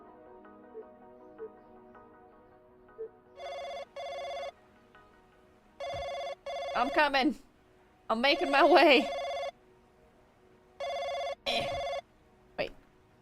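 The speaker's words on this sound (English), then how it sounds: "Oh, I gotta answer that phone." An office telephone in a video game rings in a regular electronic pattern of paired bursts, fairly close and loud. A person talks over several of the rings.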